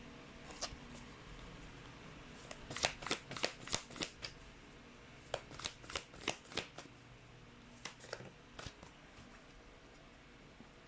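Tarot cards being shuffled by hand, several quick riffling bursts in close succession, each a rapid flutter of card edges, fairly near and alone with brief pauses between runs.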